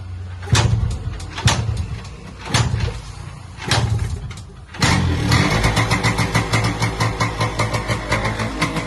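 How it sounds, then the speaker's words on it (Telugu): Yamaha RX motorcycle, unused for two months, after several separate kick attempts with brief sputters finally catches and settles into a loud, steady, rapid two-stroke idle. "ఫైనల్ గా గాయస్ బండి అయితే స్టార్ట్ అయిపోయింది."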